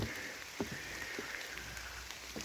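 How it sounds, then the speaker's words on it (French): Steady rain falls on a morning by a pond, a constant hiss of drops with a few louder nearby patters standing out, no voices. "En plus aujourd'hui il pleut."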